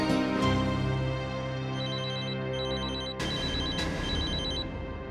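A landline telephone rings indoors in a home, its electronic trill repeating in several regular bursts, loud and close, with no talking over it.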